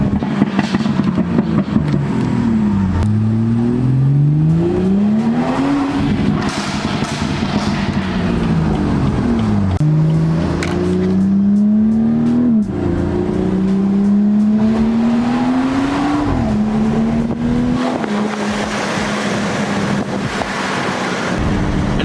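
A 2018 BMW 340i with the B58 engine driving under throttle, its exhaust rising and falling through repeated gear changes in a loud sustained drone, with some wind noise and rough burbling edges.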